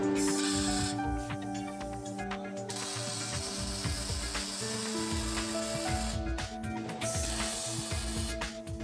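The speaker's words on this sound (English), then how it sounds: "The corners are welded manually to hold the pieces in place." Metal corners of a wood-burning stove chamber being welded by hand in a factory, heard as a steady crackling, buzzing hiss with mechanical clatter and tonal machine hum throughout, fairly loud and close.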